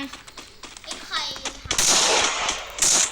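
Bursts of gunfire in a Free Fire 4v4 ranked match crackle in quick clusters, with sharp loud shots near the end and some faint background chatter.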